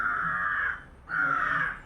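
A single crow gives two drawn-out, raspy caws separated by a short pause, near and distinct against a quiet background.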